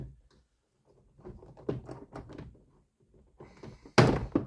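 Plastic trim clips on a passenger car door panel give several scattered rattling clicks and knocks during removal, ending in a sharp loud pop as the panel comes free, close by with no talking.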